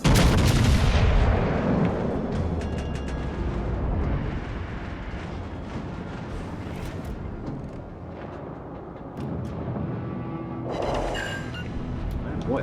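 A tank cannon in a video game fires HE shells, a heavy opening blast trailing into a long rumbling roar of battle and engine noise, with a second boom and crackle near the end.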